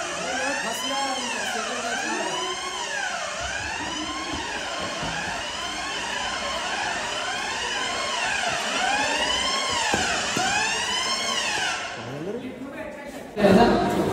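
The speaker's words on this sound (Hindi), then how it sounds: "अबे फायर अलार्म है" In a college, a fire alarm wails in repeated rising and falling sweeps for about twelve seconds, under steady talk and some chuckling, then cuts off as the voices carry on.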